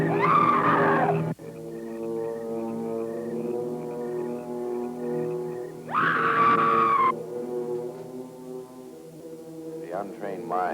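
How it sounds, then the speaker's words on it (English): A ghostly scream effect from a spooky cemetery scene near an old bell tower: long wailing, moaning tones swell and fade, with piercing shrieks rising near the start and again midway, loud and eerie, with no speech. "it is the scream of the white ghost"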